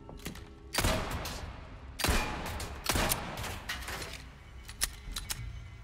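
Gunshots ring out at targets in Resident Evil 4 Remake: three loud, sharp reports spaced about a second apart, each trailing off into a metallic clatter, followed by a few quieter clicks and shorter shots.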